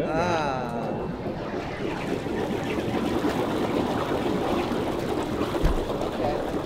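RV park hot tub water bubbling and churning in a steady, dense rush, loud and close, with no pauses throughout.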